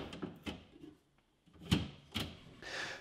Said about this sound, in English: You're going to start by putting the back tab at an angle in the fridge, and then you'll lower it until the bottom tab locks into place.